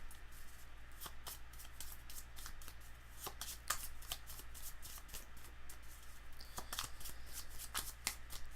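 Magic: The Gathering land cards are shuffled by hand, producing a run of quiet, crisp riffles and snaps at an irregular rhythm, close but faint, with no talking.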